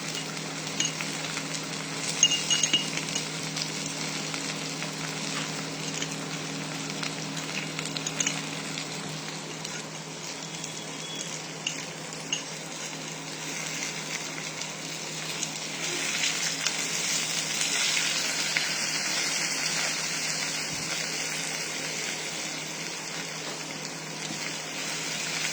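Ginger and garlic frying in a pan for a paneer sweet and sour dish, with steady close sizzling and occasional scrapes and clinks of a spoon stirring throughout, no talking.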